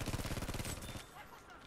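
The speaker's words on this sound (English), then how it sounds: "Type 2A is just so stupid. Such a dumb gun." Rapid automatic fire from a Type 2A gun in Battlefield 5, a fast rhythmic burst of shots lasting under a second, then fading into quieter battlefield noise.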